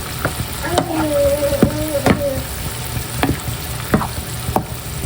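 Alamang shrimp paste with brown sugar fries and sizzles in a pan while a spoon stirs it, with steady frying hiss broken by repeated scraping strokes and a brief faint voice in the background.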